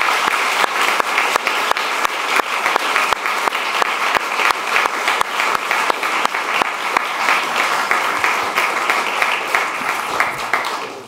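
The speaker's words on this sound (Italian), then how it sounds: "con un applauso corale per la loro disponibilità" Steady, sustained applause from an audience at a university diploma ceremony, dense clapping with a few sharper individual claps standing out, loud and even throughout.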